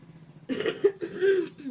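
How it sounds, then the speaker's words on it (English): Two or three close, throaty coughs come in quick succession after a quiet pause. They are short and fairly soft, with no other sound around them. "me when I have to cough"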